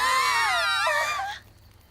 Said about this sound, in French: Elle se met à crier.